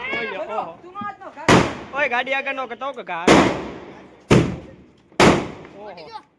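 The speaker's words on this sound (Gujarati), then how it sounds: "બધા વારા ફતી ઘા કરે છે ફટાકડા ચકલીઓ પેલા મિર્ચી" Diwali firecrackers go off one after another outdoors, four sharp loud bangs spaced a second or so apart, with people shouting and talking between the blasts.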